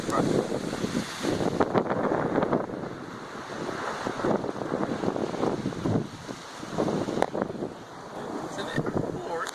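Heavy rain pours steadily during a thunderstorm in Norwich, soaking gardens and spilling from house guttering, a dense continuous hiss with gusty swells and no talk.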